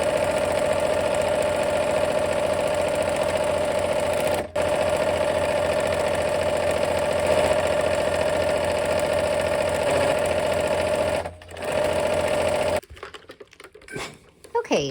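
A sewing machine stitches quilt pieces in a steady, close, rapid mechanical whir with brief pauses before stopping, followed by faint handling sounds.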